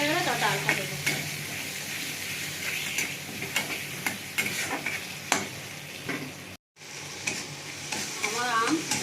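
Mango pieces with turmeric sizzle and fry steadily in a pan for aam dal, with scattered ticks and stirring scrapes of a spoon, briefly cut to silence before the frying resumes.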